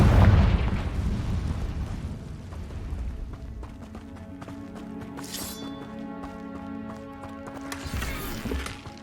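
A Confringo blast spell from the video game Hogwarts Legacy goes off with a loud, booming burst up front, then fades into a ringing, tonal magical hum with a brief shimmering flare later on.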